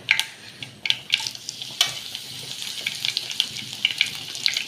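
Crisp sizzling and crackling of dried chilies frying in hot oil with mustard seeds, with sharp pops and a few stirring clatters, close and fairly loud.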